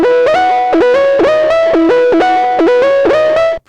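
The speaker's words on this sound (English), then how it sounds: "I add on the distortion after the reverb, because the distortion gets added to the delay and the reverb, so it gives more of like this stereo effect" A Serum synth lead with distortion placed after delay and reverb, playing a bright, buzzy repeating melodic phrase of short stepped notes with stereo echo tails, loud and alone before cutting off at the end.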